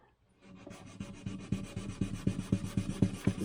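Dry 1500-grit sandpaper rubs back and forth across the finish of a Martin acoustic guitar, a rhythmic series of close, scratchy strokes that quicken and grow louder after a quiet start.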